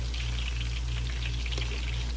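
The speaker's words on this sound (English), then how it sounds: "the onion been frying with the shrimp" Steady sizzling and crackling of onion and shrimp frying in hot oil, a continuous close hiss with small pops and a low hum underneath.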